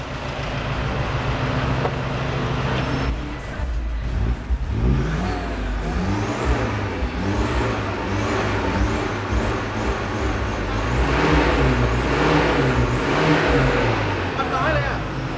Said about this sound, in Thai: เดี๋ยวเราขอเบิ้ลขอไล่นิดนึงอเพิ่มนิดนึงอ่ะ